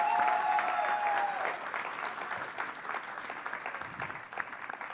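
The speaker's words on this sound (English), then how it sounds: "Let's now have another round of applause for Ms. Rose Bailey-Byers." Sustained audience applause honoring an award recipient at a women's recognition ceremony, a dense steady wash of clapping that fades slightly after the opening seconds, with a brief tonal whistle or ring early on.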